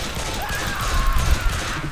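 Rapid bursts of gunfire from the Left 4 Dead 2 No Mercy campaign crackle steadily throughout, dense and continuous, with heavier low thumps clustering near the middle.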